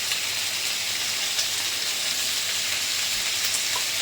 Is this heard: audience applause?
no